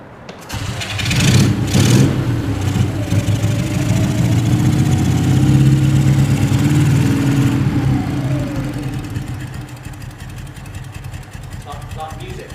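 A vintage 1960s BMW R60 motorcycle engine cranks and catches after being choked, then settles into a steady, fairly loud idle with a few blips, while people talk nearby.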